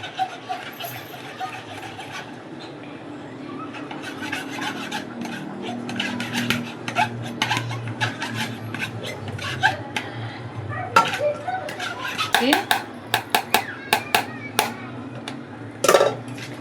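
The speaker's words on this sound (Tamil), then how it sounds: "கரண்டி வச்சு நல்லா கிண்டி விடுங்க." A ladle stirs homemade nannari elaneer drink in a vessel for Ramadan, giving soft scraping swirls and scattered metallic clinks that grow sharper and more frequent toward the end, close by.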